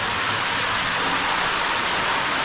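Water pours steadily down a waterfall inside a cave, a dense, unbroken rushing roar that fills the space at a constant level throughout with no voices.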